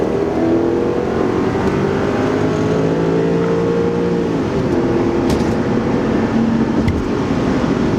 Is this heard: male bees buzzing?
no